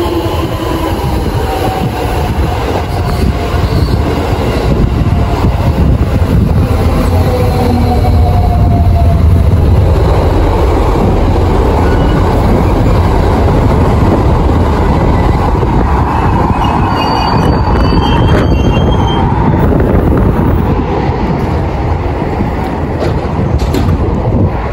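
A local passenger train bound for Kyoto rolls into Hozukyo station in a gorge, loud and continuous, with rumbling wheels, clanking cars and faint high squeals as it slows.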